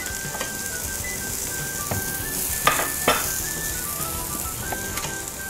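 Chopped scallion sizzles in hot oil in a wok while shrimp are stir-fried, a steady close crackle with a few sharper spatters and light clinks of the pan.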